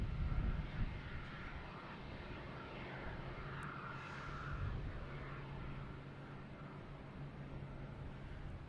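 A JetBlue Airbus A220 arriving from Key West at Boston Logan is heard as a faint, distant, steady jet roar that swells slightly midway, with wind noise and no talk.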